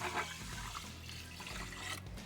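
Water is poured from a measuring cup onto wet rice in an Instant Pot, a soft, steady trickling splash heard close up and fairly quiet, with no talking.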